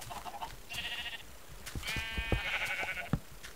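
Sheep in Minecraft bleat twice, clear and fairly close, with soft footsteps and block-placing clicks around them.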